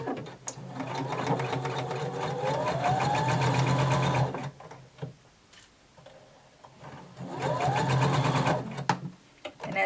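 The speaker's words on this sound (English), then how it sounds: "You're going to sew from the armhole edge until you meet your stitching or your little dot." Sewing machine stitching a bodice lining from the armhole edge, running in two long steady bursts with a quiet pause between and a brief stop at the end, close and mechanical with a rapid ticking rhythm.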